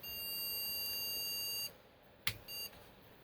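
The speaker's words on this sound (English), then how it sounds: "and we've got a beep," An MSI Z97 Gaming 3 motherboard with bent pins, corrosion and a moldy PCB, powered on for a bench test, emits a steady high-pitched electronic tone lasting over a second, followed by a short click and a brief second beep.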